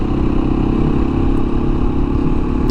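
A 2017 Beta 500 RR-S dual sport motorcycle engine runs steadily nearby, a continuous mid-pitched thrum with mechanical clatter and no change in revs.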